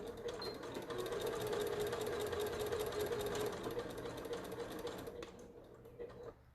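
A sewing machine runs steadily as it stitches a fabric hem, its rapid mechanical whir close and continuous before it slows and stops near the end.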